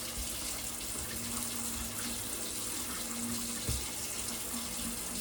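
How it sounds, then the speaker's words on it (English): A kitchen tap runs steadily while hands are washed, a constant close rush of water with faint splashes and one small knock, no talk. "And wash my hands."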